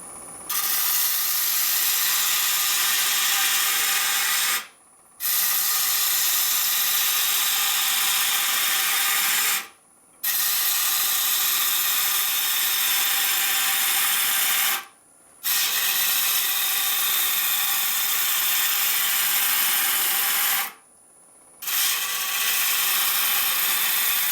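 A tool hollows out a maple burl bowl on a wood lathe, a loud continuous hissing, scraping cut broken by four short pauses at roughly five-second intervals.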